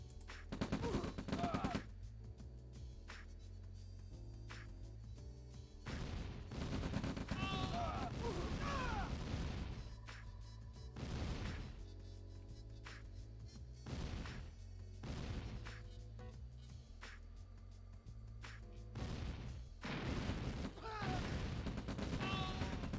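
Tanks firing in a Red Alert video game battle give repeated heavy booming shots over a dense game soundtrack, with bursts recurring every few seconds and voices talking through it.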